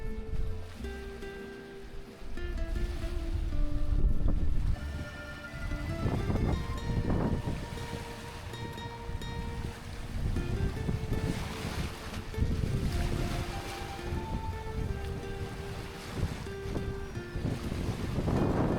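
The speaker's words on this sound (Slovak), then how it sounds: "more je trochu rozbúrené" A rough sea churns against a sandy beach after a storm, with steady, full surf noise and gusty wind buffeting the microphone throughout; a few faint tonal sounds drift through the background, and nobody speaks.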